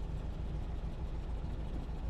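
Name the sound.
Porsche 356 engine idling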